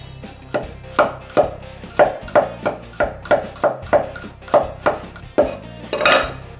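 A knife chops fresh garlic cloves on a cutting board with about a dozen evenly spaced, crisp knocks, close and distinct against a low steady background hum.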